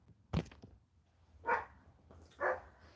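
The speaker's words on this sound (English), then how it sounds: "Sorry about the dogs barking." A dog barks three times, spaced about a second apart, somewhat distant and moderately loud against a quiet background.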